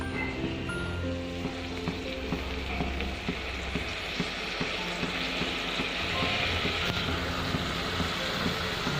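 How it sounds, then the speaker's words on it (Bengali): Spices for a cabbage dish sautéing in a pan, a steady close sizzle with faint scattered stirring clicks throughout, no voices. "মশলা যেহেতু কষানো হচ্ছে"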